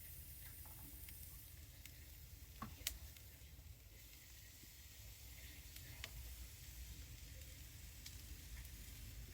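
Steaks sizzling on an oiled outdoor griddle: a quiet, steady, hissing fry that runs on without a break, dotted with small pops and ticks, no talk.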